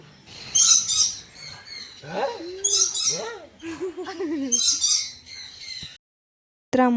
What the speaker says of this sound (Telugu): సో ఈ బర్డ్ అయితే అరుస్తుంది, సౌండ్ మాత్రం ఎంత బాగుంది